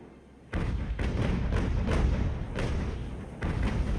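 Cannon fire from a sailing warship's broadside in the naval battle game Ultimate Admiral: Age of Sail, a sustained rumbling volley of overlapping booming shots with several sharper blasts standing out, loud and continuous throughout.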